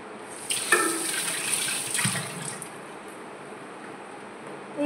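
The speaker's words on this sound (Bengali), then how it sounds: "এটাতে একটু গরম জল দিয়ে দিলাম।" Hot water poured into a cooking pot holding cashews, a short splashing pour lasting about two seconds before trailing off into quiet, close and fairly faint.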